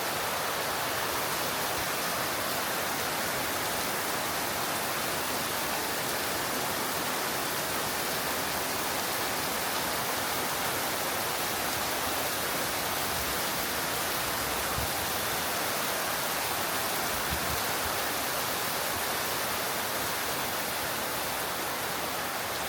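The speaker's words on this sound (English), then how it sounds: "It's pouring down still all day." Heavy rain in Ubud, Bali pours down in a constant, dense hiss, unbroken and loud throughout with no voices.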